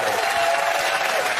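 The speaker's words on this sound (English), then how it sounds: "Give them a round of applause." Brief, dense applause from the studio audience of a daytime TV talk show. The clapping is steady and loud throughout, with a faint voice tone running underneath.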